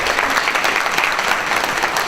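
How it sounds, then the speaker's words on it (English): Audience at a children's charity fundraiser dinner applauds steadily, a dense, even wash of clapping from a roomful of guests with no break. "I just think we should give him a round of applause, Victor, and his beautiful wife"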